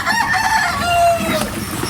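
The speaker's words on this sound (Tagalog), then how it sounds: "Magpapakain muna po si Bossing ng kanyang mga alagang manok" Pet chickens on a Philippine backyard farm at feeding time, a rooster crowing loudly up close while hens cluck around it in a short burst.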